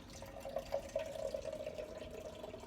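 Fresh juice from a slow juicer pours over a kitchen sink, a faint steady trickle with light dripping, heard alone and quiet.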